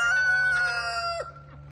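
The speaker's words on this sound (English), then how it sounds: "Over here is another chicken." A chicken on a farm gives a sustained, strained call that falls away near the end. A steady low hum runs underneath and no one speaks.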